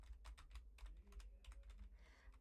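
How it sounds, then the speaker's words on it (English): Computer keyboard keys pressed in quick irregular bursts, crisp clicks close to the mic over a low steady hum, no voices. "Are you guys getting the keyboard ASMR that you wanted? Do I need to make my button presses louder?"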